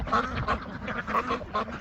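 Ducks quack in quick repeated bursts close by, a steady chattering flock with several calls overlapping.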